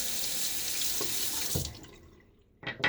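Tap water runs steadily into a bathroom sink during a shaving rinse, a close, hissing flow that cuts off, followed by a few splashes and clinks.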